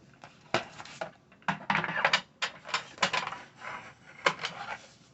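A paper cutter trims a sublimation print for a glitter canvas, giving a close series of short dry clicks and scraping strokes in an uneven rhythm, with no talking.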